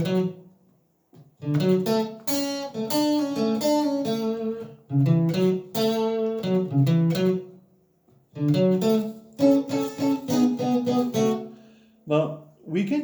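A song's riff is played alone as a run of clear, close, plucked melodic notes in short phrases separated by brief pauses.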